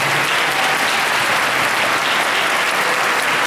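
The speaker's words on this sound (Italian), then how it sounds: "Prego innanzitutto di fare un grande applauso a Don Lorenzo per l'ospitalità." An audience in a church at a gospel concert gives a big round of applause, loud, dense and continuous clapping that holds steady throughout with no voices on top.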